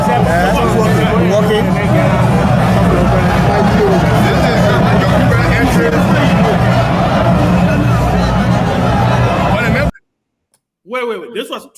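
Dense crowd hubbub at a political rally in Lofa, a loud continuous babble of many voices that cuts off abruptly near the end, followed by a brief close voice speaking.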